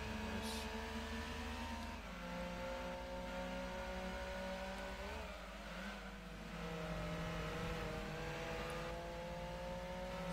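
A small car's engine drones steadily in Gran Turismo 2 during a Micra Trophy race, with its pitch rising and dipping as gears shift, over a constant game-audio background.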